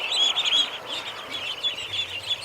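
Ducks let out onto a lawn from their pen for their first day running around, giving a continuous stream of high, busy peeping and chirping calls, close and fairly loud, with no voices.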